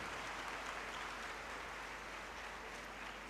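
An audience claps together at a motivational speech event, making a continuous, even wash of applause that sounds fairly distant and subdued for a few seconds.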